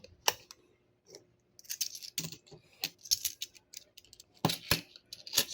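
Coins are handled, clinking and jingling in sharp, irregular bursts with brief quiet gaps between the handfuls, close and fairly crisp.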